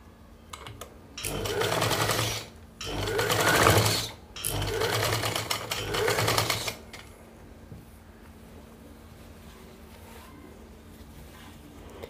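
A sewing machine stitches elastic onto a pair of pants with pintuck design, running in three loud bursts of steady rapid whirring separated by short pauses, then stopping into quiet room tone.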